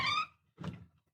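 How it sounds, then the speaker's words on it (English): A door opens in an office chamber: a brief creaky or scraping sound, then a soft dull thunk, close and quiet with no speech. "The door opened"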